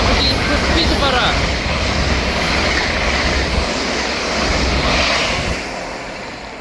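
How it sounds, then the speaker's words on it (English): A delayed LNER passenger service from Aberdeen to Peterborough runs through Broughty Ferry station, giving a loud, steady broadband roar of wheels and engine that holds for several seconds and then begins to ease off, with no talking. "Passing now is the delayed 1455 LNER service from Aberdeen to Peterborough."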